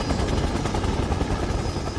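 A helicopter in the Resident Evil HD video game drones loudly and continuously with rapid rotor thumping, close and filling the scene with no voices over it.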